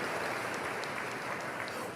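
A congregation at a religious sermon applauds in a steady, dense wash of clapping that stays loud and even throughout the short stretch.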